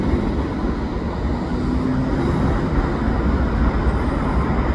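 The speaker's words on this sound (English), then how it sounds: "There's the locomotive." An Amtrak Adirondack locomotive rumbles at night during a backing move, giving a loud, continuous, low-heavy drone of engine and rolling wheels close by.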